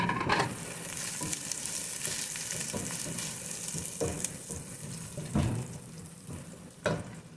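Minced garlic frying in hot oil in a pan, a steady close sizzle broken by a few scraping stir strokes and clatters, with no talk.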